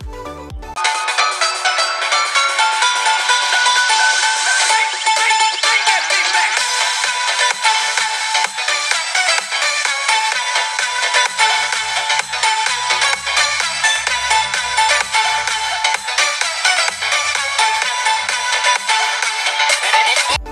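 A Redmi 10X Pro phone playing music through its single mono speaker, bright and fairly thin with little low end, a steady continuous melody at constant loudness, loud and alone.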